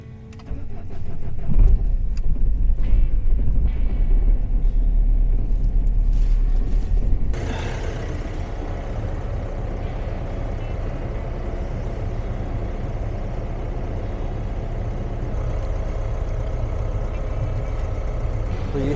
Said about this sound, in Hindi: गाड़ी एक बार स्टार्ट कर लेते हैं।